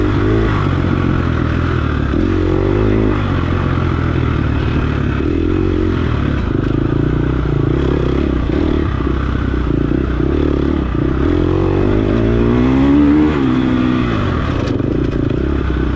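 Dirt bike engine in an off-road race, loud and close, holding a steady droning rev with rising and falling pitch sweeps as the rider brakes and accelerates, alongside rattling chassis clatter throughout.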